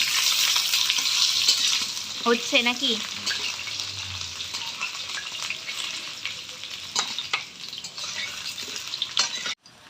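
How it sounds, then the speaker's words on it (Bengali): Potatoes sizzle and crackle in hot oil in a pan during a New Year picnic cook-up, a constant bright hiss with scraping stirs, while a voice briefly speaks over it. "আলু ভাজা হলো?"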